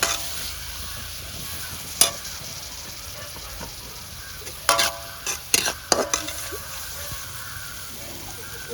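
Onions fry and get stirred in a pan for egg kothu, giving a steady sizzle with a few sharp scraping clicks from the stirring utensil throughout.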